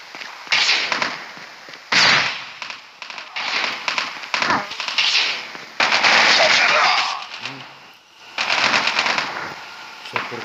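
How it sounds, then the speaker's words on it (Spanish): Flashbang grenade and gunfire in a Call of Duty Mobile domination match: repeated sharp bursts and crackling pops in clusters over ten seconds, loud and dense with brief gaps. "Flashbang."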